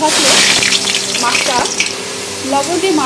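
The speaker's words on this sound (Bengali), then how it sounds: "এবারে মাছগুলোকে সুন্দর করে আমি ভেজে নেব" Pabda fish fry in hot mustard oil with a dense, loud, steady sizzling crackle, while a voice talks faintly underneath.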